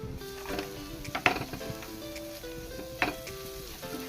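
Chili powder and garam masala being stirred in a hot pan for egg biryani, a soft sizzle with a few sharp scrapes and clinks of the spoon against the metal, quiet and close.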